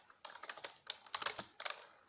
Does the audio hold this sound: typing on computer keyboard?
yes